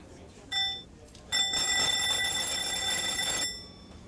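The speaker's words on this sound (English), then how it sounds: "Sounds a bit like a fire engine or a doorbell." A repaired electric bell rings in two bursts, a brief short ring followed by a longer sustained metallic clanging ring that stops abruptly.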